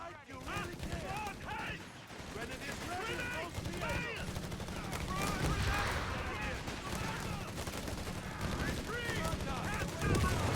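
Battle sounds from the real-time strategy game Company of Heroes 3, with machine gun and 8-centimeter mortar fire: steady gunfire and distant booms that run continuously under overlapping voices.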